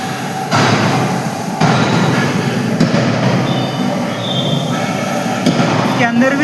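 A forging press machine restarting after its bolts were tightened, its loud steady mechanical roar kicking in abruptly and running continuously with occasional high metallic squeals.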